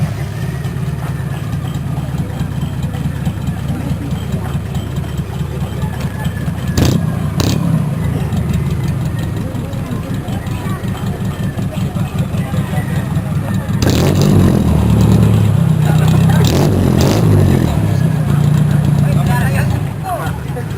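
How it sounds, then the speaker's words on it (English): A jeepney's diesel engine runs with a steady, loud, low rumbling idle, and partway through it revs up into a harsher, louder surge that holds for several seconds before dropping back, with voices talking over it. "So the jeepney driver will start his engine and we will see how bad the smoke of this jeepney can be."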